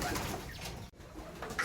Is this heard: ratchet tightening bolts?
no